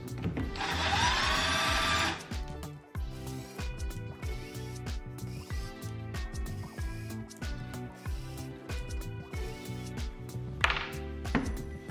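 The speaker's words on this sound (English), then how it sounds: "We're going to go ahead and remove these Allens." Allen bolts being backed out of a winch's planetary gear housing with a power driver, a sustained whirring burst at the start and again near the end, between repeated metallic clicks and ratcheting taps.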